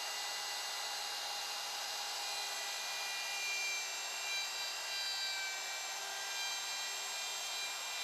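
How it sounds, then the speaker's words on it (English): A DEWALT router cuts a dovetail joint in wood with a steady, loud, high-pitched motor whine and cutting roar that holds evenly throughout. "Turn the router on and move the router across the face of the work until you reach the first finger of the template."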